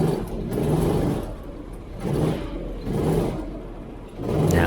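Go-karts warming their tyres on an indoor track at AusCarts in Port Melbourne, engines rising and falling in repeated waves as karts sweep past, loud and fairly close, no voices.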